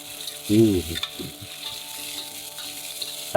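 Ginger and scallion sizzle in a hot wok while stir-fried for ginger and scallion crab, a steady frying hiss with brief louder bursts of tossing near the start and end.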